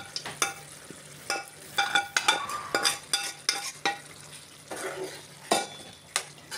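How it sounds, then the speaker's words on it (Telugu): A utensil scrapes and clinks against a pan as chicken is stirred into gravy, in irregular close strokes over a faint sizzle. "ఇప్పుడు ఇందులోకి మనం ముందుగా రెడీ చేసి పెట్టుకున్న చికెన్ని ఇందులోకి వేసుకొని కలుపుకోవాలి"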